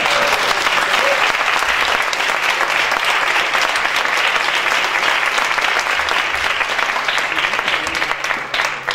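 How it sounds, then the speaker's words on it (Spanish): Sustained, energetic clapping from an audience at a landscape architecture week event at UNAM's Faculty of Architecture, honouring the panel speakers and staying strong for nearly nine seconds before easing slightly at the end. "Entonces, por favor, démosles un aplauso a nuestros ponentes"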